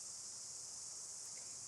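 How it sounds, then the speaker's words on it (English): Cicadas in a forest, a dense chorus of hundreds or thousands of insects. They make a steady, shrill, high buzz that holds constant throughout, with no talk over it. "hundreds, probably thousands of cicadas"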